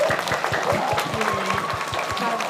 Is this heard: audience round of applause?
yes